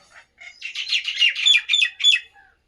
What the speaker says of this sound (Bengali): মাথার উপরে পাখিগুলো ওদেরকে সকালবেলা খেতে দিয়েছিলাম তো খাওয়া হয়ে গেছে আবারও এসছে দেখছি সব